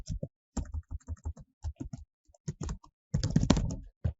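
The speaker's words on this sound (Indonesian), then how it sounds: "Misal saya ketik Jakarta" Typing on a computer keyboard, a run of quick separate keystrokes in short bursts with brief pauses, ending in a denser flurry of clicks; close and clear, with no talk.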